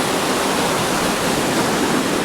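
Flowing water near Loteshwar temple, a dense continuous rush like a small waterfall or stream, steady and fairly loud throughout with no voices.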